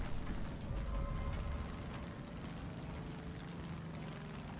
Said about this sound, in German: Also das Fliegen mit Flugzeug ist echt nicht so geil.